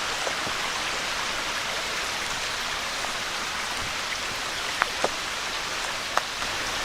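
A creek flows through a wooded gorge in Pennsylvania's Hemlocks Natural Area, giving a steady, even rush of water with a few faint ticks and splashes, heard alone with no voices.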